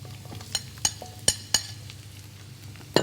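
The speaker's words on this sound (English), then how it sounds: "let us fry some garlic and ginger." Garlic and ginger frying in oil in a wok: a low sizzle runs underneath while a metal utensil strikes and scrapes the pan in several sharp, separate clacks, with no speech.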